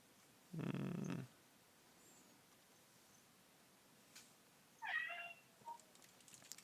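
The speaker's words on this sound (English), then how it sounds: "kitty" A cat meows once, loud and close, during quiet indoor sounds, then gives a second, higher, shorter meow a few seconds later, with a few faint clicks around it.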